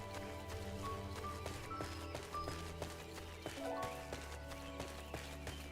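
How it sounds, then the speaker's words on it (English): Footsteps on a path in the video game Final Fantasy XIV, a steady run of soft, rhythmic steps, close and even, laid under continuous in-game music. "like how the footsteps sound different if I'm walking on the path."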